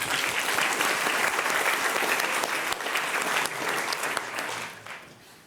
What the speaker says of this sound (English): So please give yourself a big round of applause.